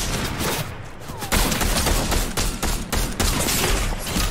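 Loud gunfire in Fortnite, including sniper rifle shots, fires in dense, repeated bursts with short breaks between volleys, up close and alone.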